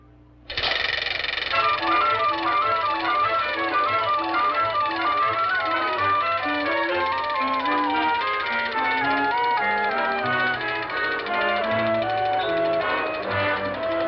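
A prize wheel spun on the quiz show You Bet Your Life: a loud, steady, rapid ratcheting clatter that starts suddenly and runs for about fourteen seconds, with tonal ringing mixed in and no talking.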